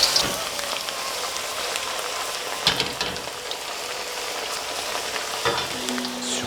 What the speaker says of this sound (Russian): Все, пусть жарится.